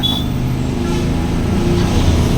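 A vehicle reversing on a foggy, muddy hill road through forest near Ooty, its engine a steady, loud low rumble close by with no breaks.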